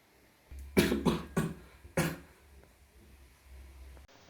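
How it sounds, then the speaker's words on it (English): Four sharp coughs in quick succession, the last after a short pause, close and loud over a faint low hum, with no other voices. "Coughing"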